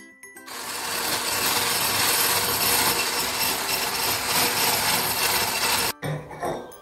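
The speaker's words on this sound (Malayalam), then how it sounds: "അപ്പം നമുക്ക് മുട്ടൻ്റെ മഞ്ഞൊന്ന് ബീറ്റ് ചെയ്തെടുക്കാം." Egg yolks being beaten for tiramisu with an electric mixer, a loud steady whirring buzz lasting several seconds close by, then stopping abruptly with a few brief bumps afterward.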